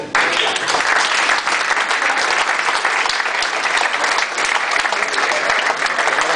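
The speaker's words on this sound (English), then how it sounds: "I'd like a round of applause for the players" Loud, close audience applause for football players at an academy event, a thick continuous wash of clapping that stays strong from start to finish.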